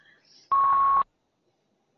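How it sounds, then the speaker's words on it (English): A single steady electronic notification beep from a computer during an online call, lasting about half a second, loud and clean against near silence. "It says Andy whenever it beeps"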